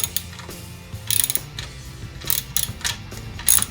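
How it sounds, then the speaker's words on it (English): Adjustable wrench cranking a 14 mm bolt tight during assembly of an SSR 125 pit bike, giving a few light metallic clicks and ratcheting taps in short bursts, close and fairly quiet. "Throw the adjustable wrench on this side. And we got our 14 millimeter. And we're just going to crank it and tighten it right up."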